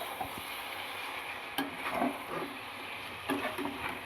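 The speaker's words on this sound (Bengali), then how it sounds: "এবার আমি মশলার সাথে ভালোভাবে আলু আর চিকেন কষিয়ে নেব।" Potatoes and chicken stir-fry with spices in a pan, a soft, low sizzle broken by a few brief scraping stirs. The sound is fairly quiet and close, with no voices.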